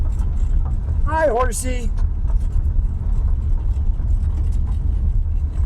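A 1978 Plymouth Volare's engine idles in a low, steady rumble close by throughout, while a person briefly speaks over it early on.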